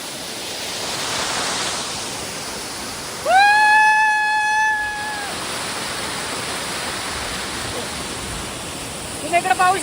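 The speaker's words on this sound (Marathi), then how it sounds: "लहान पण अतिशय सुंदर धबधबा आहे." A small waterfall at Rajgad fort in Maharashtra gives a steady, broad rushing hiss throughout, with a brief held voice-like tone in the middle and a few clicks at the end.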